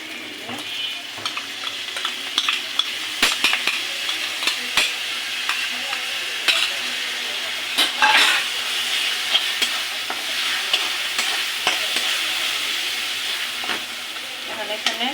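Grated coconut is tipped into a frying pan and stirred, a steady sizzle under repeated scraping and clacking of the spatula against the pan, close and busy throughout.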